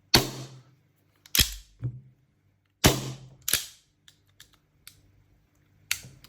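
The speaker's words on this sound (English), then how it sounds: "Let's hear the sound of that pistol." Lancer Tactical Hi Capa LTX6 green gas airsoft pistol firing several sharp, loud cracks spaced a second or so apart, each trailed by a brief mechanical clack of the slide, with faint small clicks in between and no talking.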